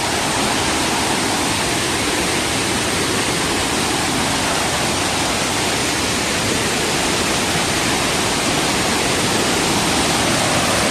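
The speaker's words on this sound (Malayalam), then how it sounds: "ബ്യൂട്ടിഫുൾ എന്ന് പറഞ്ഞാൽ കിടിലനാട്ടോ, അടിപൊളി വെള്ളച്ചാട്ടമാണ്." Marottichal waterfall in Thrissur, Kerala roars as a loud, unbroken wash of falling water, steady and close for the whole stretch with no voices.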